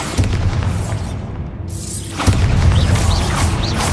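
A Bombarda spell blows up in Hogwarts Legacy, a loud deep boom with a whooshing rush that drops away briefly and then bursts back into a rumbling blast.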